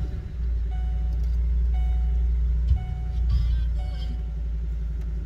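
Repeated electronic car warning beeps sound at a steady interval over a low engine idle rumble, with a brief faint voice in the background.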